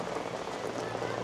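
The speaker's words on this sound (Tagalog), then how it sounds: "Ulan na ng ulan." Heavy rain pours steadily on surfaces at a mountain cable car site in Langkawi, Malaysia, a dense continuous hiss with faint voices beneath it.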